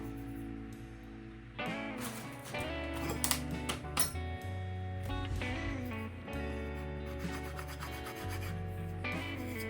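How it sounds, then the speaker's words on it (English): Sandpaper or a scraper works the back side of a P90 pickup part for a neck-through guitar build, giving close, continuous rasping strokes over a low, steady background tone. "the next thing now I'll do is sand or scrape the back side of this off."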